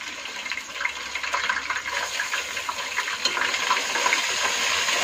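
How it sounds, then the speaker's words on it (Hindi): Ginger and garlic fry in a pan with a steady, close sizzle that builds slightly and continues alone without talk. "अच्छे से भूनेंगे"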